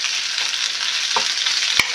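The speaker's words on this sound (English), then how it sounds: "we want to spread this in the pan, get it all, brown it evenly on both sides" Beef browning in a frying pan for Greek beef stew sizzles with a steady, close broadband hiss, broken by a brief stir and a sharp clink near the end; no voices.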